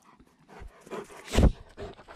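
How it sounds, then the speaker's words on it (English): Dogs get worked up indoors, panting, snuffling and giving a sharp loud yelp or bark partway through, close by and excited, with no talking over them. "And the dogs are freaking out."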